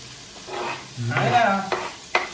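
Onions hit a hot pan for butter chicken in a bachelor's room, a brief rising sizzle and rustle that stays close, with a couple of sharp spatula taps near the end.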